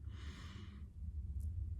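A single fast exhale through the breath during a guided breathing session, a breathy rushing sigh lasting under a second, close and fairly soft, then quiet.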